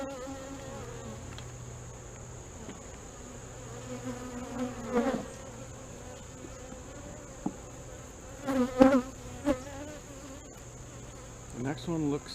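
Bees buzz during a beehive inspection, with soft, intermittent passes of individual insects flying close to the microphone over a quiet background hum.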